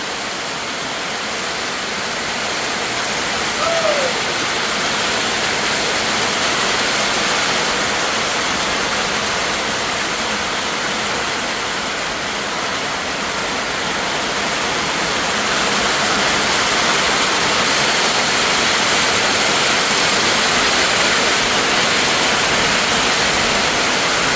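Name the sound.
heavy rain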